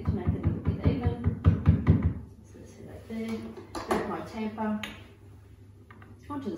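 Espresso portafilter of a Breville Barista Express BES870 knocked down to settle the coffee grounds, giving a quick run of sharp knocks over talk, then quieter clacks further on.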